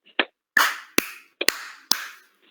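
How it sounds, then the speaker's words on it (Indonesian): A class of tenth-grade students does rhythmic counted clapping during a religious education lesson, a handful of sharp, separate claps spaced unevenly with brief silences between them. "tepuk satu, tepuk dua, tepuk empat"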